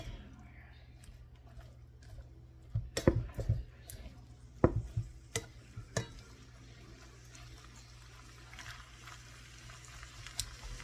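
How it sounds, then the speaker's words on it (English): A spoon scrapes and clinks against a pan while a mixture of cabbage and meat in its juices is stirred, giving scattered sharp knocks over a soft simmer as someone talks. "Mix it up real nice so you can see everything put together"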